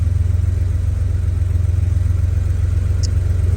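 An older vehicle's engine idles inside a garage, a steady low rumble with an even, pulsing throb that stays close and constant, with no talking.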